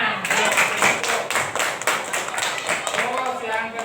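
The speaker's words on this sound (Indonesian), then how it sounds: "Segitiga, beri tepuk tangan." Students in a classroom clap their hands in a brief burst of quick, close, irregular claps, with voices of children mixed in underneath.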